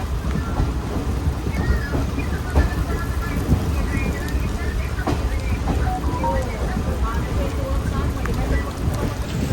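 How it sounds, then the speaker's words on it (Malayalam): Steady rain on the Poorna Express as it runs from Ernakulam toward Pune, a loud, continuous wash of rainfall and wind blended with the train's deep rolling rumble and no clear break. "ഇപ്പോൾ പിന്നെയും തുടങ്ങി മഴ"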